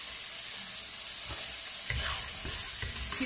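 Vegetables sauté for a wild rice and mushroom soup, giving a continuous close sizzle that swells in the second half as stirring scrapes and clatters join in.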